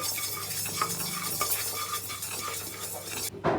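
Three spoons of rice roast brown in a pan alongside urad dal for Andhra-style minapa sunnundalu. A spoon stirs and scrapes steadily over a continuous light sizzle, with a louder clatter at the end.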